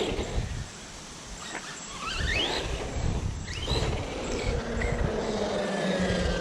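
An Arrma Outcast V2 RC car running Redcat Kaiju MT tires brakes hard out of a wheelie outdoors, a quiet rising motor whine and brief squeal heard at a distance over wind noise.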